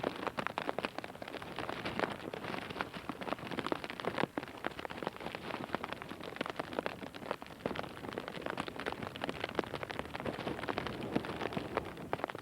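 Heavy storm rain pours steadily onto a beach, a dense, continuous hiss of drops beating the surface for the whole stretch, with no voices over it.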